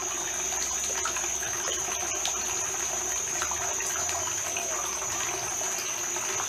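Steady rushing and splashing water from a pond being aerated, a continuous even wash of sound with a constant high whine running through it, no talk.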